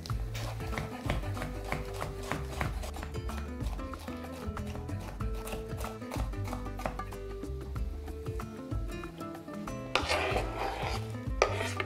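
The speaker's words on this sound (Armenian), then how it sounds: "Պղպեղները կկտրատեմ զորիկաձև։" Knife chopping peppers into strips on a cutting board, rapid steady rhythmic knocks, close and clear, continuing throughout.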